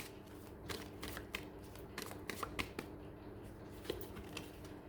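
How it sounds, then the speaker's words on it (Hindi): Tarot cards being shuffled: quiet, uneven riffles and light taps in irregular bursts, faint and close with no talking. "मैं परसिवरेंस के कार्ड को क्लेरिफाई कर देती हूँ।"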